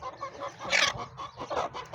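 A green-egg-laying hen clucks in short, uneven bursts, close by, with a louder squawk-like cluck partway through.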